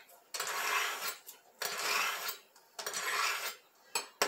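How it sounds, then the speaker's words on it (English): A knife is drawn through a Rada knife sharpener in three rhythmic rasping, scraping strokes, fairly close and moderately loud. "Rada knife sharpener. It is a nice one, so I'm going to sharpen it."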